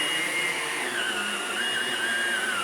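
A Hoover Blade cordless vacuum cleaner runs close by with a loud, steady high-pitched whine and airy rush. The pitch shifts slightly as it moves over the floor, and there is no speech.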